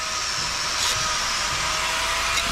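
An angle grinder with a mortar-raking blade grinds out old mortar joints in brickwork for repointing, giving a steady, loud, continuous whine with broadband rushing noise and no talking.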